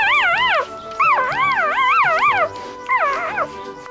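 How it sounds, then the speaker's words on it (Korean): A newborn litter of six puppies, born overnight, whimpers in three bursts of high, wavering, rising-and-falling whines, close and fairly loud, with no talking. "어머나, 밤사이에 강아지들이"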